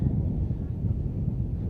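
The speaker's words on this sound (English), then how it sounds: "it is very, very windy still." Strong wind buffets the microphone at an outdoor kart track at Clay Pigeon during a SuperOne Championship round, a constant low roar and rumble that fills the whole stretch.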